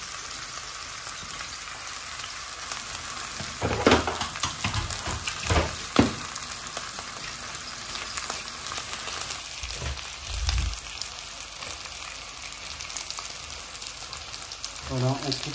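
Osso buco meat sizzling and frying steadily in a pan, with occasional stirring clatters and scrapes, while a voice talks over the cooking.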